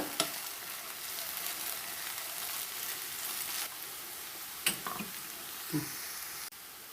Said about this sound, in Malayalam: ഇപ്പോൾ മൂടി തുറന്നപ്പോൾ ഫ്രൈ ആയി വന്നിട്ടുണ്ട് ഇനി കുറച്ചുകൂടി ഒന്ന് ഫ്രൈ ആവണം